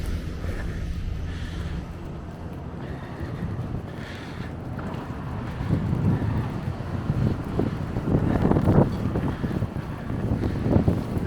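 Gusty wind blows through New York City streets during a February snowstorm, a steady low roar buffeting the microphone that swells louder in the second half, with no one speaking.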